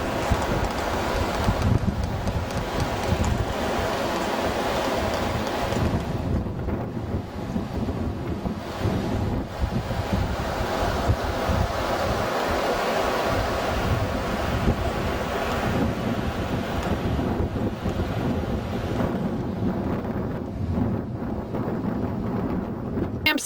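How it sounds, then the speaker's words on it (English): Strong wind blowing off a glacier at College Fjord, Alaska, roaring steadily and loudly across the microphone for the whole stretch, with a constant rushing, buffeting texture and no voices. "A lot of wind coming off of this glacier."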